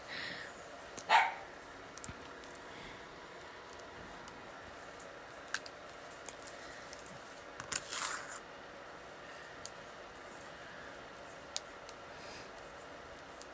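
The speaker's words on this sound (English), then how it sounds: "A puppy? What puppy? Is there a puppy? Oh, in the background." A puppy in another room lets out a faint bark near the start, then stays mostly quiet beneath soft crafting clicks and snips.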